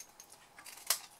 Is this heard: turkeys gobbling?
no